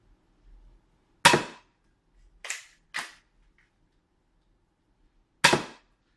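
A Gavin Fuzzy Customs SPAMF foam dart blaster fires darts, sharp close pops in a quiet room, one first, a quick pair about half a second apart, then another after a pause.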